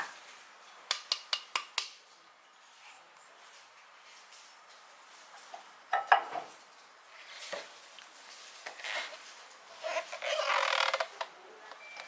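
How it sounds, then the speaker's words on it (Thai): Rice flour and tapioca flour being poured and mixed in a bowl for pandan lod chong: a few sharp taps near the start, then soft scraping, rustling and pouring sounds, faint and close, with no talking. "ผสมแป้งนะคะ แป้งข้าวเจ้าใส่ลงไป แป้งมันสำปะหลังใส่ลงไปค่ะ"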